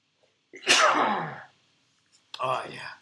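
A single loud, sharp sneeze bursts out from someone close by, followed a moment later by a shorter breathy exhale or second sniffing burst in an otherwise quiet room.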